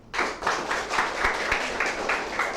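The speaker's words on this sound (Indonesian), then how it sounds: "kita bagi tepukan yang gemuruh kepada kita punya MC Emerald Muhazar ya" A crowd at a business talk in Keningau, Sabah, gives an MC a round of applause, with dense steady clapping that swells and holds for a couple of seconds.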